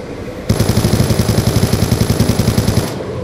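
Rapid, steady bursts of automatic fire from a big gun in Black Ops 2 Zombies, loud and close, with evenly spaced rhythmic shots running for most of the clip after a sudden start.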